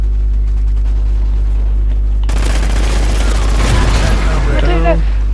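Gunfire in the Call of Duty Ghosts video game: after a quieter stretch with a steady low hum, a loud, dense burst of rapid shots and booms erupts and continues to the end, with game sound effects layered on top.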